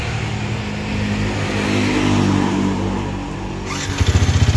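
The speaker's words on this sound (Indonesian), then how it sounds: "Nah, ini starternya hidup ya guys ya." A motorcycle is brought to life with its electric starter inside a storage warehouse. Its engine runs close and loud with a steady mid-pitched drone, then settles into a rhythmic pulsing idle in the final second.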